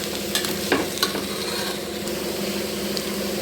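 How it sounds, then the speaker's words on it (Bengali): Frying in a pan after salt is added, a dense steady sizzle broken by a few quick spoon scrapes early on, close and moderately loud. "সুন্দর করে ভেজে নিতে হবে।"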